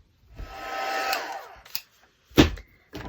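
Handheld dryer blows on a printed journal cover made from a Reader's Digest book cover, a steady whooshing whir lasting about a second, then clicks and brief bumps as it is switched off and handled.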